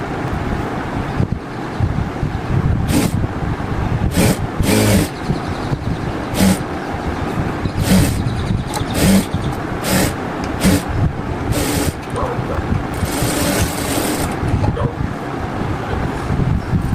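A sewing machine stitches a kurti with a dense, continuous whirring drone, loud and close, marked by frequent short clicks and bursts as the stitching runs without pause.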